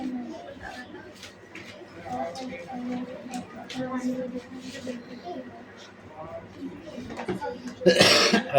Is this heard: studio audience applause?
no